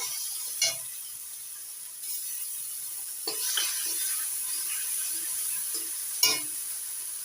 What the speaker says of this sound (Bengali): পেঁয়াজ আদা রসুন ভেজে নিয়ে এবার দিয়ে দিচ্ছি টমেটো বাটা